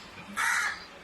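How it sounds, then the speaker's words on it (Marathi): A single harsh crow caw rings out clearly, short and fairly close, over a quiet background. "कावळ्याचा आवाज मात्र खरंच कशा असतो बरं का"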